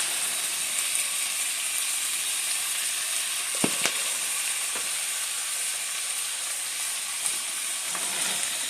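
Spare rib tips seasoned with paprika sizzle steadily in a pan, a continuous bright frying hiss with a few faint clicks and taps breaking through.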